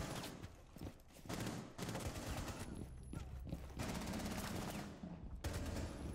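Rapid bursts of Uzi submachine-gun fire in Rainbow Six Siege during a competitive world championship match, several volleys in quick succession, loud and close, with players talking between the shots.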